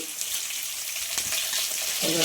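Green chillies, ginger and onion pieces fry in hot oil for upma, a continuous bright sizzle and crackle heard up close, with faint speech underneath.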